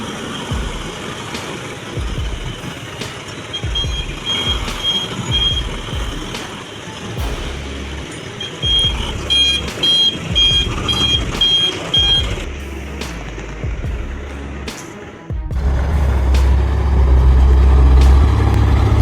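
A heavy tractor truck rolls in close by with its engine rumbling, and a steady electronic reversing beep pulses over it for several seconds before the engine roar swells louder near the end.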